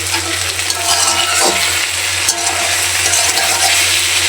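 Okra being fried in oil for a simple bhaji, giving a steady, close broadband sizzle with light stirring scrapes and a low steady hum underneath, no voices.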